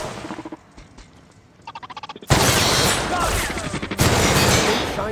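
Gunfire from the video game The Outer Worlds: a loud burst of rapid shots, dense and continuous, cut by a short pause before more firing resumes, with a voice heard briefly before the shooting starts.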